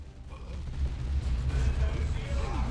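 Grenade explosion in the Dawn of War II video game amid battle, deep rumbling booms with gunfire-like crackle, loud and dense, with voices over the combat.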